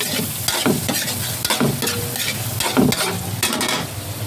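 Garlic fries in a pan as it is stirred, a close steady sizzle broken by rhythmic scraping strokes of the utensil against the pan.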